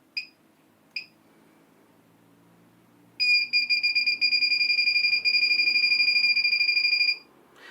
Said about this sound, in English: you get some slow beeping